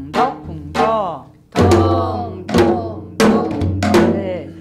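A janggu, the Korean hourglass drum, plays the deong-deong-deok-kung-deok pattern of a Jindo Arirang lesson: sharp resonant strokes with ringing tails in an uneven five-beat rhythm, loud and close.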